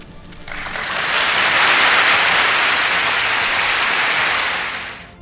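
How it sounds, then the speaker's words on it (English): Applause at the Oscar ceremony rises from a hall audience and holds as a steady, moderate wash of many hands for several seconds before dying away, with no voices over it. "Little Feather would then walk towards backstage, followed by somewhat half-hearted applause."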